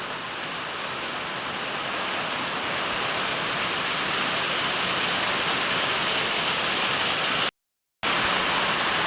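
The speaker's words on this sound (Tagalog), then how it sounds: "Ulan na pod kay diri sa amoa guys." Steady, dense rain pours down without a break, a constant broadband hiss close by, briefly cut to silence near the end.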